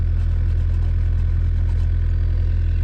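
Wacker Neuson plate compactor of about 200 pounds running close and loud, its engine giving a steady pulsing thump with unbroken vibration and no talk.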